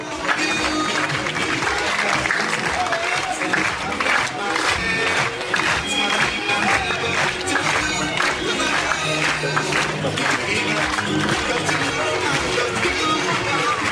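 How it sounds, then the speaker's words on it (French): Sustained, dense applause and cheering from a large outdoor crowd at a high-diving show in an amusement park, loud and continuous for the full stretch with no pause. "Applaudissez très fort."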